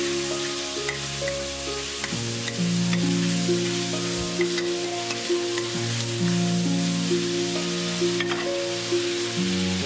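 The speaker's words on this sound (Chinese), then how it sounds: "加入葱姜蒜干辣椒八角翻炒" Scallion, ginger, garlic, dried chili and star anise stir-frying in a wok, giving a continuous close sizzle with occasional stirring scrapes, and no talk over it.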